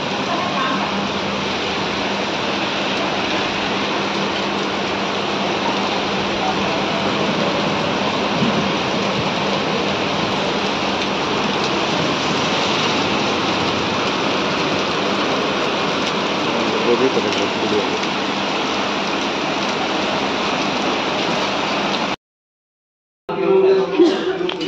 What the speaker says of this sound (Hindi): अब कुछ ज्यादा तेज बारिश होने लगी है यहाँ पे।